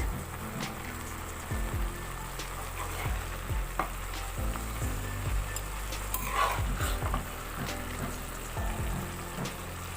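Mushroom curry in a pan is stirred together with a cornflour slurry, giving a continuous sizzle under repeated scraping, tapping strokes of a spoon against the pan.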